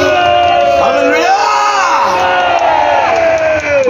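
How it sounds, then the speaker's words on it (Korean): A large crowd claps and cheers loudly and continuously with shouts and whoops at an outdoor political rally in Korea, dense and close throughout. "큰 박수"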